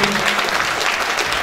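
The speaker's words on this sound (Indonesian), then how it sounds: "boleh tepuk tangan dong" Audience applause at an academic talk in Indonesia honouring a scholar, a dense, steady wash of many hands clapping close by that fills the whole short moment without speech.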